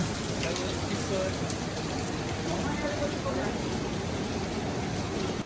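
Steady rain pours down at Dupcheshwor Mahadev, a hilltop Shiva temple in Nepal, a dense unbroken hiss of drops on surfaces, even and close throughout with no pauses.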